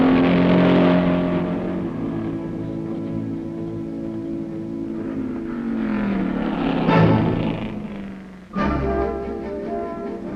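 A 1965 race car leaves the start of the Pikes Peak hill climb with a loud, close engine roar. The revs rise and fall through the gears, then a sharp surge near the end as it pulls away.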